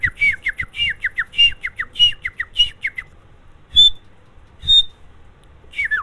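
A person imitates the call of a white partridge with rapid runs of sharp, whistled squawking notes, then a few isolated piercing whistles spaced apart, each one loud and close.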